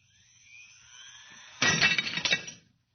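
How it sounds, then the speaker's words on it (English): A glass shatters as a radio-drama sound effect: a thin rising whine builds, then a loud sudden crash of breaking glass follows, with tinkling fragments fading out. "Watch closely what happens to that glass on the edge of the table. Watch. It's amazing. The glass was shattered."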